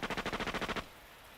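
A rapid burst of about ten automatic gunshots from the visual novel The Fruit of Grisaia, in steady rhythm, loud and close, then cutting off into a low lingering rumble.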